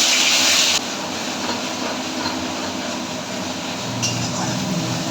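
Whole spices hit hot oil in a kadai, giving a bright burst of sizzling that settles into a steady crackling hiss, near and fairly loud, with a fresh flare of sizzle partway through.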